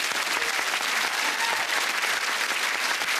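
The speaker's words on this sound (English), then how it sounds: "We'll give you a warm send-off by giving you a nice round of applause now, Sandy." Studio audience applause on a 1994 television game show, dense and continuous clapping at steady loudness with no talk over it.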